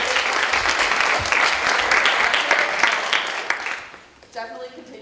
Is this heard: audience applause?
yes